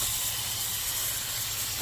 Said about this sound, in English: Mr. Wright is watering the brassicas that reseeded themselves